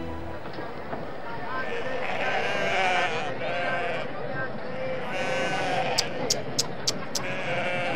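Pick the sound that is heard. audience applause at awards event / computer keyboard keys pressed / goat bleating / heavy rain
goat bleating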